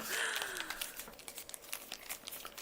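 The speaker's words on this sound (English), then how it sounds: "Give them a nice good shuffle." Playing cards from a pirate-themed board game are riffled and shuffled close by, a quick rapid flutter of crisp papery snaps and crinkles lasting a couple of seconds.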